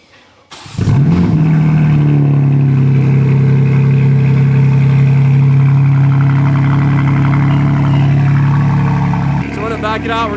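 A BMW G80 starts up with a loud bark, then idles steadily in a low, even rumble close by as it prepares to back out. A person speaks briefly near the end.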